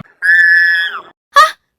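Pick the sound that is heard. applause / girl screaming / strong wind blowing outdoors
girl screaming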